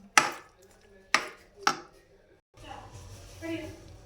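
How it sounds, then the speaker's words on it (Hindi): Green chilies being chopped for a chaat on a board: three sharp, close knife thuds about half a second apart, then a softer stretch of rustling and handling noise. "तो इस तरीके से हमने सब्ज़ मिर्च भी कटिंग कर ली है।"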